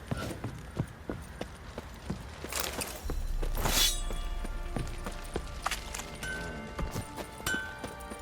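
Horse hooves clip-clop in The Witcher 3: Blood and Wine, a run of sharp, evenly spaced knocks over steady game ambience, with a louder rushing swell partway through.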